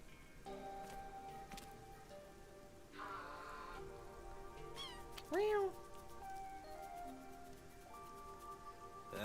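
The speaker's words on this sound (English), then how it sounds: "As promised, you can keep that cat here. That cat is getting soaked." In the video game Rain Code, a cat meows in the rain over a steady patter of rainfall and game music. One clear rising meow stands out in the middle, and a few fainter mews come before it.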